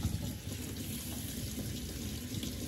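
Tap water running into a sink to rinse a baby's hands, a steady close rushing splash for a few seconds with no talk.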